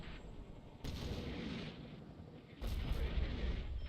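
Mortar and artillery fire in the war game Combat Mission Shock Force: two heavy booming blasts a couple of seconds apart, each rumbling out over a low, fairly distant battlefield background.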